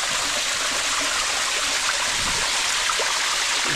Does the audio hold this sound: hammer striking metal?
no